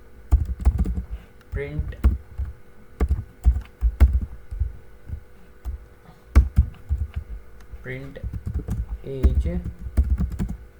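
Computer keyboard typing while writing Python code, clusters of quick close key taps in bursts, interleaved with someone speaking in between.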